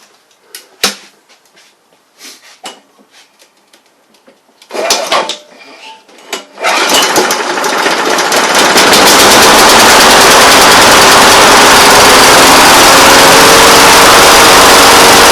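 Small engine fitted with a replacement Tecumseh carburetor: a few sputtering pulls and brief catches, then it fires and settles into a loud, steady, continuous run.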